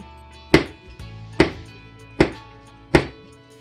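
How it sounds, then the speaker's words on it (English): Knife chopping food finely on a board, four crisp evenly spaced thunks, close and clear with quiet between strikes. "So just chop it up real fine like a magic chef"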